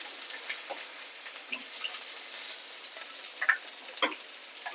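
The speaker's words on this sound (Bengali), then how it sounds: "পেঁয়াজটাকে সুন্দর করে ভাজতে হবে।" Chopped onions frying in oil for goat-fat ghugni make a soft, thin sizzle broken by sparse light crackles and pops, fairly quiet and close, with no speech.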